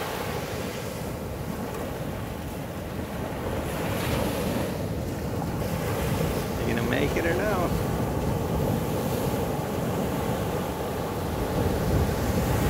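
Steady ocean surf washes against the shore with wind buffeting the microphone, and a person briefly speaks over the rushing water.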